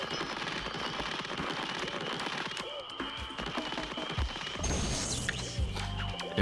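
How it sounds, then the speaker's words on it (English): Rapid bursts of video game cannon fire in Spyro: Enter the Dragonfly crackle and boom over a busy, constant game soundtrack, with a few heavier thuds near the end. "And there's the next cannon."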